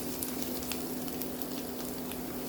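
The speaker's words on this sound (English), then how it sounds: "Fry for about 1 minute, and after a minute, let's add our garlic" Garlic sizzles steadily in a hot pan during a chicken, mushroom and broccoli dish, a soft, even frying hiss with faint crackles and no voices.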